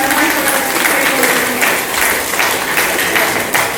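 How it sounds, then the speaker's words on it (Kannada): Loud, dense applause from a crowd at a Mahaveer Jayanthi gathering, steady and unbroken throughout, with no gaps or voices standing out. "ಎಲ್ಲರೂ ಚಪ್ಪಾಳೆಯ ಮೂಲಕ ಅವರನ್ನು ವೇದಿಕೆ"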